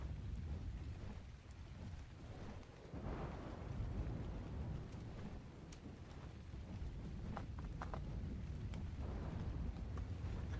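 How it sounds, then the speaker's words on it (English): Stormy weather rumbles through a rain-soaked landscape in Ark Survival Ascended on the Valguero map, with steady low thunder and wind noise filling the whole stretch and a louder roll building midway. "Valguero has a lot more stormy weather than the other maps."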